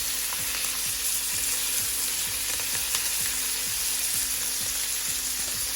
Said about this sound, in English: We'll cook these cutlets for 2 minutes both the sides to get a nice golden brown color.